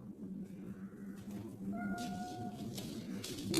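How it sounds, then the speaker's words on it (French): A cat meows softly at a distance in a quiet room, with a faint drawn-out call in the middle of low background rumble. "Ça c'est minou."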